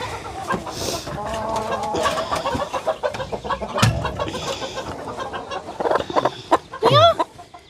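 Free-range backyard chickens clucking near a coop, a busy run of close, repeated clucks and squawks rising into louder excited calls near the end, with a little background noise.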